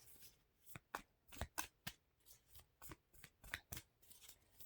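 Tarot cards shuffled by hand, soft, close riffling bursts repeating in an uneven rhythm, quiet and with no talking.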